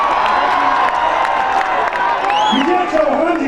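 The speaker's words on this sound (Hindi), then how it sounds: "ऐसा शिल्पी राज जी, उनके खातिर जोरदार ताली होगा।" Crowd at an outdoor stage festival in Azamgarh cheering and clapping loudly, a dense continuous roar with whoops, mixed under a voice on the sound system.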